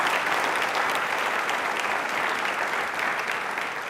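Enthusiastic audience applause at a televised Independence Day quiz show, dense and steady clapping from a large crowd that stays loud and even throughout with no speech over it.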